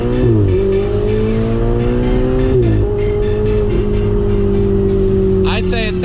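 A Ferrari 488 Spider's engine is heard from inside while driving, loud and close. Revs climb and drop through gear changes, then settle into a steady drone, with a brief chirpy whine near the end.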